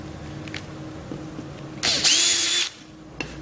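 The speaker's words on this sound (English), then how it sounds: "I can use this little jig by Blum to work out where to drill for the hinge" A power drill bores a hinge hole in a plywood kitchen door, a short loud whirring burst of under a second, with softer tool handling and taps before and after.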